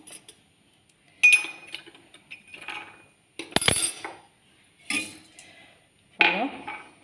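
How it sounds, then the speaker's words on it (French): Galette dough with lemon zest stirred in a bowl, heard as several distinct bursts of clinking and scraping utensil strokes against the bowl, separated by short quiet gaps. "je vais pouvoir mettre aussi le zeste de citron et pouvoir mélanger"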